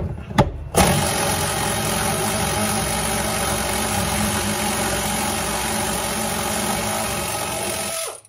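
Shop air compressor motor starts abruptly after a brief knock and runs at a steady loud drone, close by, then cuts off at the end.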